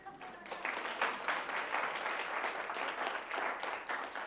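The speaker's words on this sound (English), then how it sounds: "You can clap if you'd like." A faint, distant round of applause from an audience at a law school main-stage event, an even patter of many hands that holds steady for several seconds.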